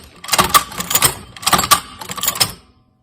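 A Cowboy Outlaw hand-cranked leather stitcher runs with the presser foot left down, giving three quick bursts of clattering, rattling mechanical strokes close by, with short pauses between them and no talk.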